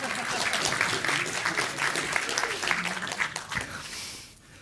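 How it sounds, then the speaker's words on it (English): Audience at a technical conference talk applauding a volunteer, a full continuous burst of clapping from a crowd that holds steady, then thins and fades away toward the end. "Applause for a hacker"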